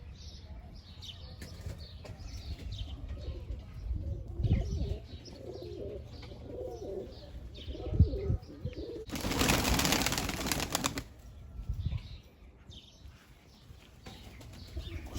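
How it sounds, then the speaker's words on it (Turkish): Ala pigeons coo nearby, then a burst of wing flapping erupts for a couple of seconds as startled birds take off, followed by more cooing and rustling. "Kuşlar bir şeyden ürküp duruyor ama çözemedim yani."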